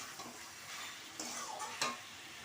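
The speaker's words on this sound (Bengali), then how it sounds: "চলো ভালো করে কষিয়ে নিয়ে আলু পটলটা দিয়ে জল দিয়ে দেব।" Potato and pointed gourd being stir-fried in a pan give a steady, fairly faint sizzle with a few scraping stir strokes standing out.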